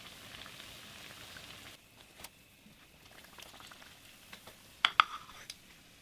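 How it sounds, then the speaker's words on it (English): Sopapilla dough frying in hot oil gives a faint, steady patter like light rain, with a few sharper pops and crackles toward the end. "these should fry up anywhere from a minute to a minute and a half, if that, just until they get nice and golden"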